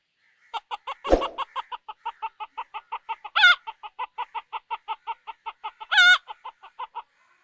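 A human voice imitates a hen clucking after laying an egg, a long run of evenly spaced loud clucks broken by two rising squawks and one sharp burst near the start.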